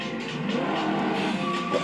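A race car engine in the video game Ford Racing 2 drones at high pitch, steady and loud, with a slight rising whine.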